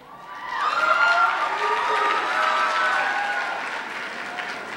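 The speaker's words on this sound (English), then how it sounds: "I say the name, you clap, that's how it goes." Pageant audience applauding contestant number 5 at a school Mr. pageant event, a steady wash of clapping with some cheering, swelling early and holding fairly loud throughout.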